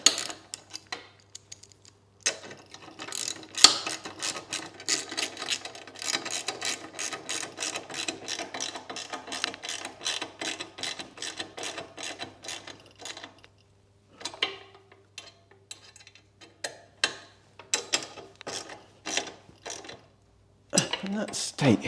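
Close ratchet clicking in quick repeated bursts as nylock nuts and bolts are tightened while fitting a mount on a Royal Enfield Classic 350, with brief pauses between strokes and a few separate clicks near the end.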